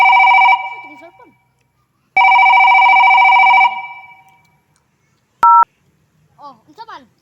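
Cellphone tones, two long loud steady beeps followed by a short sharp tone burst, close and clear, with brief voice fragments afterward.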